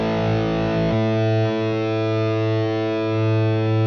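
An electric guitar played through a Fractal amp model gives a distorted, sustained tone: one ringing chord, then a fresh strike near the first second that rings out with a slight swell toward the end.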